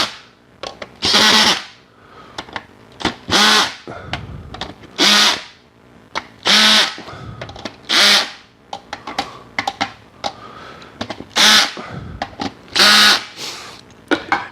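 A cordless power drill tightens the tension rods and pulls a drum head down during a trigger installation, sounding in repeated short bursts of whirring with brief pauses between, close and fairly loud, with no talk.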